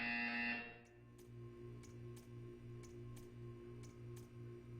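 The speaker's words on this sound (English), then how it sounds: "When you hear the buzzer, stare at the art." A game buzzer sounds in Portal 2 as a steady low buzzing with a faint repeating pulse, moderately loud and alone after a louder opening tone, with periodic high ticks over a quiet humming room.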